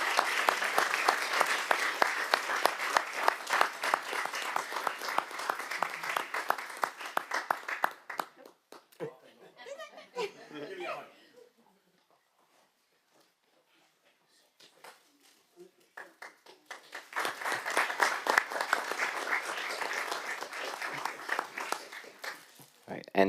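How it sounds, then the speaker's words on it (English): An audience at a board of education meeting claps loudly, dies away to near silence with a brief rustle, then breaks into a second round of clapping. "Please join me in offering a huge round of applause to recognize Mrs."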